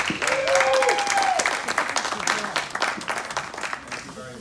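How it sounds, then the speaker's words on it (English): An audience at a business network luncheon claps together, a dense burst of applause that swells at the start, then tapers off while a voice speaks over it. "give a round of applause to Gabe and to Donnie Rinsberg"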